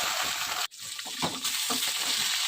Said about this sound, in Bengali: তো এদিকে আমি তেল গরম হয়ে গেছে আর একে একে মাছগুলো ফ্রাই করে নিচ্ছি